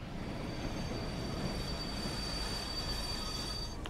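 A diesel train in the Train Sim World 3 game, on the Tees Valley Line, rolls to a stop with steady wheel squeal and a constant low rumble, loud and unbroken throughout.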